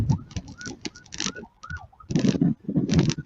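A lead police vehicle's siren wails and rises and falls during a road cycling race while people talk loudly nearby, its tone weaving in and out of the voices.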